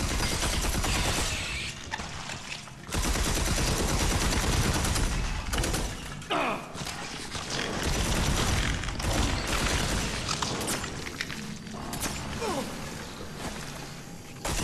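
Gunfire in the sci-fi shooter Red Faction: Armageddon, with dense, loud, sustained bursts and booms that run almost without pause, thinning briefly before starting again.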